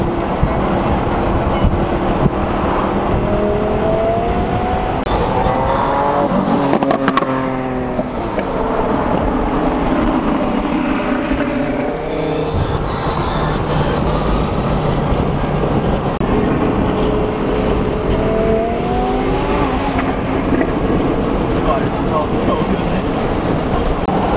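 A twin-turbo Audi R8 roars past twice, engine pitch sweeping up and down as it approaches and recedes, with voices talking over the noise.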